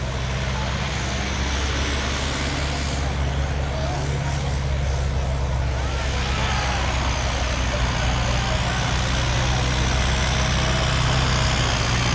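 A fully modified plunger-diesel tractor engine runs steadily through a disc-harrow pulling contest, a constant heavy low rumble with loud broadband roar and no pauses, spectators faintly audible around it.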